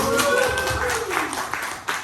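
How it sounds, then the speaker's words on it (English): Applause from an audience at a networking mixer for Cambodian professionals in Southern California, a steady wash of clapping filling the room for about two seconds with voices mixed in. "So I just want to give you a round of applause"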